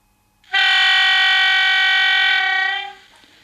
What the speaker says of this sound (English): But function 2, the shortest duration of it is this.